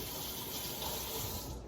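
A kitchen tap runs steadily while hands are washed after cracking an egg for baked doughnuts, a continuous close, even gush of water with no speech.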